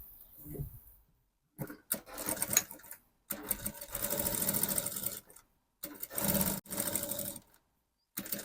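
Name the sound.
sewing machine sewing bias onto lace dress sleeve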